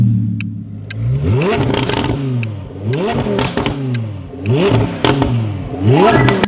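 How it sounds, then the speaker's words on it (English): A Lamborghini Huracan STO engine revs hard and loud, with repeated sweeping climbs and drops in pitch, crackles and pops between pulls, close and dominant throughout. "Yes, the sound of a race car unleashed on the street. The Huracan STO."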